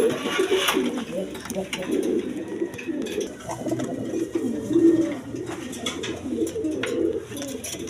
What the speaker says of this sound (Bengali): এখানে এক পেয়ার হাই ফেলিং গিরিবাস কবুতর আছে